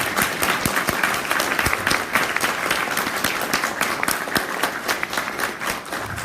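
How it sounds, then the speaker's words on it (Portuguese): An audience at an academic seminar applauds the professor, with dense, sustained clapping that stays loud throughout and tapers slightly at the end. "Queria pedir uma salva de palmas para o professor."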